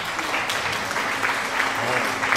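A stream alert plays a crowd applauding steadily, dense clapping that holds at an even level for the whole stretch, with faint voices mixed underneath.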